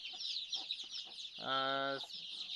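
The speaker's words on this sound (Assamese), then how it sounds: "মোৰ বৰ্তমান 100 পোৱালি আছে" Chickens cluck softly on a small poultry farm with a brood of chicks, a short harmonic cluck rising over a bed of high, constant chirping.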